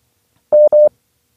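Telephone busy signal on a failed call: two loud, steady beeps of equal length in quick succession, alone with no voices.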